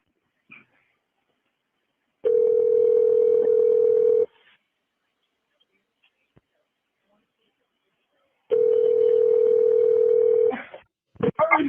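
A telephone line tone sounds on a 911 emergency call being transferred to medical: two steady, loud, single-pitch tones of about two seconds each, separated by near silence, then brief clicks.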